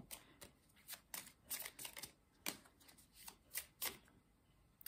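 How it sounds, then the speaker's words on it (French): Tarot cards shuffled and drawn by hand, a quiet run of crisp riffling and flicking bursts in an uneven rhythm, close and alone with no voice over them. "Maintenant, on va prendre, allez, 2 cartes comme ça"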